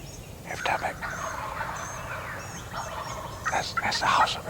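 A wild turkey answers a crow locator call with several gobbles during a hunt outdoors. The gobbles are rattling and moderately distant and rise to a louder burst near the end, with faint background noise.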